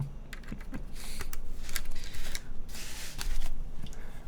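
Typing on a Foraz Signature Hope TKL mechanical keyboard gives bursts of quick clacking keystrokes that come close and fairly loud, separated by short pauses, with no talking.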